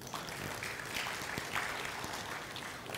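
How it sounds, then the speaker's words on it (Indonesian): A church congregation claps for Jesus during a service, a quiet, distant wash of applause that stays even for a few seconds. "Tepuk tangan buat Tuhan Yesus."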